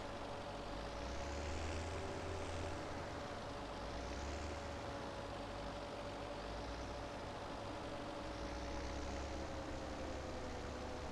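Tractor-drawn grass mower running in a farming game, heard as a steady engine drone with a constant hum and a low rumbling base, swelling slightly in waves as it works, with no talk.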